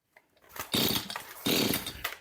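A Stihl chainsaw engine, just back from a repair shop, started without choke, fires in two loud bursts of ragged two-stroke roar separated by a brief dip, close by with no talking.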